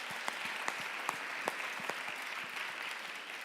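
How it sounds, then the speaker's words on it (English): Audience at a startup venture event clapping for the founders, a soft, distant spread of applause with a few sharper individual claps standing out across the steady patter. "So I want a very, very, very big applause for them"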